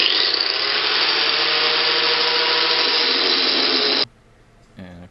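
A power grinder runs steadily and loudly for about four seconds on a Honda CX500 cafe racer project, a dense rasping whine that cuts off abruptly, followed by a brief low mechanical sound.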